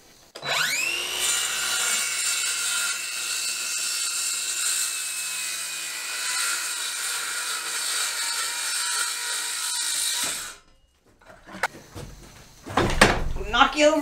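A saw cuts through a 2x10 construction lumber board in one long, steady, loud pass lasting about ten seconds, then it stops and scattered clunks and knocks of wood being handled follow.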